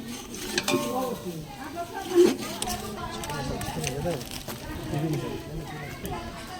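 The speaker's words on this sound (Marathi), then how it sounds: "खोबरं टाकलं हलवून घ्यायचं खोबरं कडकमध्ये भाजू द्यायचं जरा" Grated coconut roasting in a pan at home, stirred with a spoon for a rural chicken curry masala, soft scraping and light clinks of utensil on metal with a faint sizzle, under a woman's speech.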